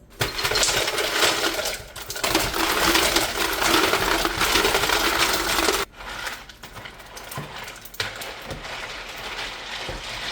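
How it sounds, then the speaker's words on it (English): Ice cubes poured into a pitcher of Mexican hibiscus tea, a loud continuous close clatter and rattle of cubes tumbling in, pausing briefly, then a second lighter run of clinking, with no talking. "let's go fill this up with ice"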